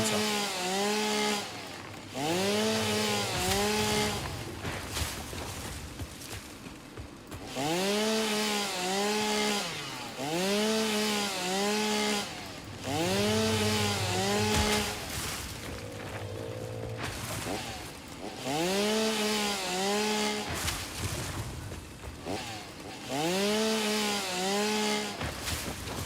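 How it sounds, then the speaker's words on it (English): Chainsaw cutting in the video game Satisfactory: repeated bursts of rising and falling buzzing whine, each lasting a couple of seconds, separated by short pauses, moderately loud throughout. "Just need a chainsaw."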